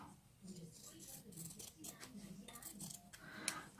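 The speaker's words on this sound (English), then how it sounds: "Then I'm going to use my wavy scissors" Wavy-edged scissors snip through fabric for a Tilda doll in a quiet, faint series of crisp cuts, blades closing and opening in an uneven rhythm close by.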